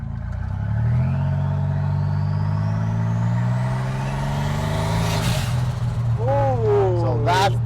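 A custom rat rod's engine revs up steadily, its pitch rising over several seconds, then a few brief squealing sounds cut in near the end.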